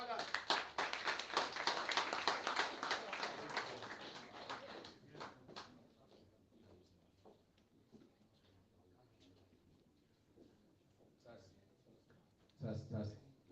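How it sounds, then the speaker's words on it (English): Audience clapping at a campaign kickoff event for a state representative candidate, a loud burst of many hands for the first five seconds that fades into scattered claps and murmuring talk, with a brief renewed flurry near the end. "Clap it up for Farhat"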